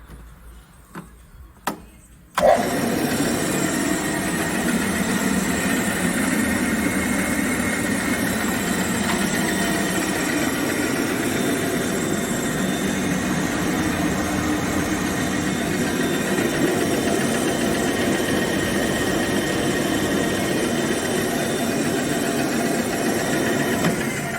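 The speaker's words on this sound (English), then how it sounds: "I will start from the compressor now." A KAESER screw compressor built in 2006 kicks on with an abrupt jolt after a few quiet seconds, then settles into a loud, steady mechanical drone and hum that holds unchanged to the end.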